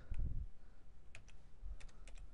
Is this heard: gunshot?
no